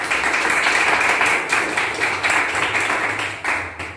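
An audience in a classroom claps for a presenting group, a steady, moderately loud patter of many hands lasting a few seconds and tapering slightly at the end.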